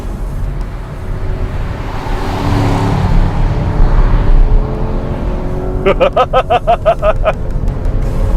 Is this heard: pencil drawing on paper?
no